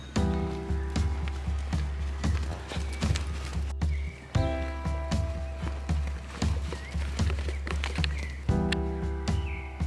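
A horse moves around a trainer on a lunge line, its hooves beating a steady rhythmic clip-clop on the ground, fairly close and continuous, with soft breathing between the strides.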